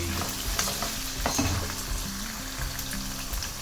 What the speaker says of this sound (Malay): kita tumis dan kita stir sampai sebati